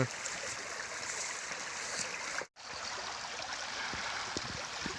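Steady rushing of a mountain stream in the Nallamala forest, water flowing continuously over rocks, broken by one brief dropout midway.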